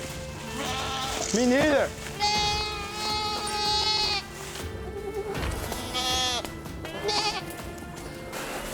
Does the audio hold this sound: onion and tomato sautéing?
no